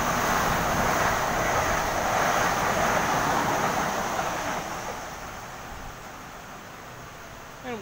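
A Waratah electric train passes through Toongabbie station in Sydney, a loud, steady rolling roar with a high whine that slowly fades as it moves away.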